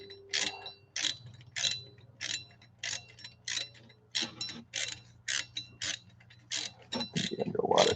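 A ratchet snugs down a bolt on a 2001 Jaguar XK8 engine during timing cover and water pump work, a series of about fourteen crisp clicking bursts in a steady rhythm, close and moderately loud.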